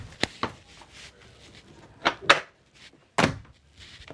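Doors on a Garcia Exploration 45 aluminium sailing yacht open and shut in the cabin, giving several separate knocks and thuds spread across a few seconds with quiet gaps in between, close and fairly soft.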